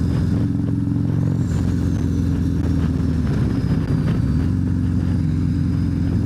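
A turbocharged 2024 Harley-Davidson CVO ST runs close by, its engine giving a loud, steady low rumble with layered throbbing harmonics, a brief swell in revs midway and faint whistling tones above.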